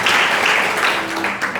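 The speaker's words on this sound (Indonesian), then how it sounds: "Come on, beri tepuk tangan kemuliaan buat Tuhan" A church congregation at an Indonesian worship service claps and applauds in a steady, dense burst that carries through briefly and evenly without pause.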